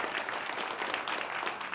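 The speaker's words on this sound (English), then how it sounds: "round of applause for Mike" A small group at a casual coffee-and-conversation gathering claps for Mike, a brief, soft, steady patter of applause with no talk over it.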